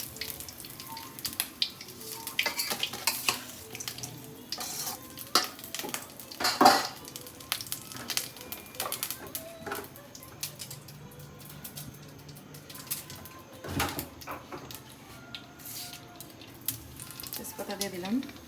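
Jackfruit curry fries in a pan with bay leaf and whole cumin, giving a soft sizzle broken by irregular clinks and scrapes of stirring, with a few louder knocks against the pan.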